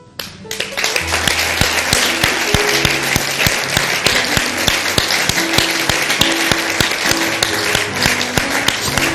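Loud, sustained applause from a large church worship crowd, dense clapping that starts abruptly and continues steadily throughout.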